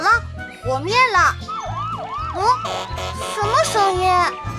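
A cartoon fire truck's siren wails in a loud, rising and falling pattern over a bouncy children's song, with cheerful voices singing and talking over it throughout.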